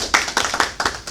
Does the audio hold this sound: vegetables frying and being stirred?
no